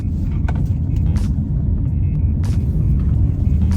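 A 2022 Honda HR-V small SUV driving through corners: a steady low engine and road rumble from inside the cabin, loud and constant, with faint thumps and hiss over it.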